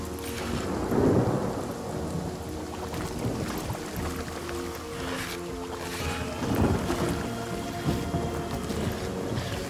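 Steady rain with rolling rumbles of thunder in the video game Divinity Original Sin, a continuous stormy wash with two heavier thunder swells, no speech over it.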